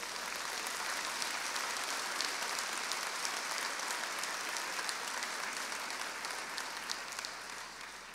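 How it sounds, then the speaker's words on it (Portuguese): A church congregation gives a round of applause during a sermon, a broad, even wash of clapping that holds steady over a low hum and tapers slightly at the end. "Dá uma salva de palmas para Jesus."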